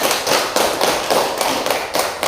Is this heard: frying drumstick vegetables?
no